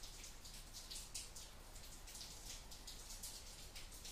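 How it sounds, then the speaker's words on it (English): Rain falls outside, a faint, steady patter of drops pattering on a surface with no talking. "Sorry about the rain"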